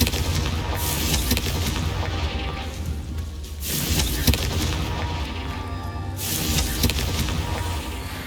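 A Confringo blast spell in Hogwarts Legacy during a Merlin trial, heard as loud booming explosive bursts that roll into dense rumbling noise, with sharp swells and cut-offs over about eight seconds and no talking.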